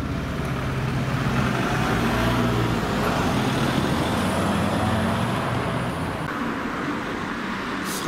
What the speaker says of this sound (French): Les jours passent et il y a de plus en plus de voitures.